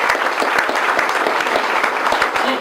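Audience applause for Nancy at the opening of a South End services clinic, a dense steady patter of many hands clapping, loud and close throughout with no talking.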